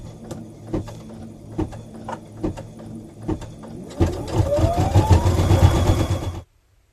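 Home sewing machine stitching a gold trim border around daisies on a beginner mug rug, a steady close mechanical whir with rhythmic clicks that speeds up toward the end, then stops abruptly.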